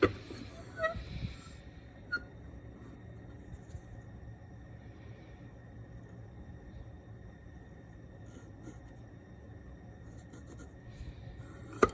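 A pencil scratches marks onto a dental model during blockout work, faint scraping strokes near the start and at a few later moments against quiet room tone.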